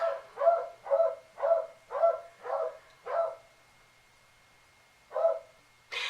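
A dog barks indoors at some distance, six quick barks in an even series, then a pause and two more, fairly faint with no talk over them.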